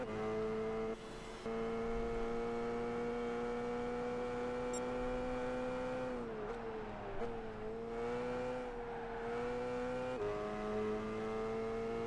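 A Super GT race car engine in the video game Gran Turismo 5 holds a loud, steady tonal drone, dipping and rising in pitch as it shifts and revs through several changes over a continuous run.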